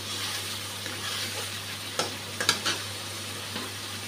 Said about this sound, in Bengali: মশলাটা ভালোভাবে ভেজে নিয়েছি।